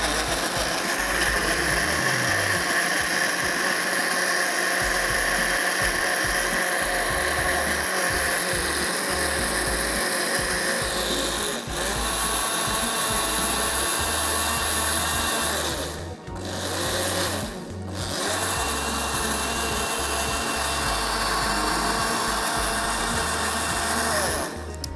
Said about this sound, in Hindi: इसको हमने 1 मिनट तक ब्लेंड करना है